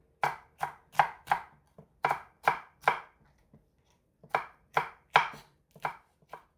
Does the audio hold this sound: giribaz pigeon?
no